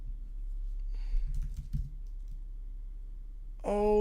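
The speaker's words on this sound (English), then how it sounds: "I'm just typing random names." Faint computer keyboard typing taps out a brief cluster of quick clicks in a quiet room, followed by a few seconds of near silence before a voice starts up.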